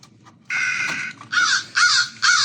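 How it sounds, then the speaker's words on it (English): Recorded crow caws played back by a Halloween prop controller, a few loud harsh squawks in quick succession after a faint start, close and clear with no talk. "And our crows will start squawking."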